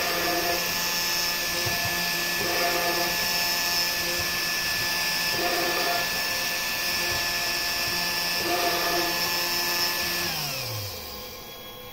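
A Comgrow mini CNC router drilling 1 mm holes in a PCB: a steady, close, high spindle whine with four evenly spaced drilling passes, then the spindle winds down at the end.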